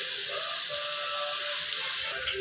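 Vegetables for a Gujarati rana rudi flower and vaseti greens shaak sauté in a pan with turmeric and salt, giving a steady, even hiss throughout with no talking.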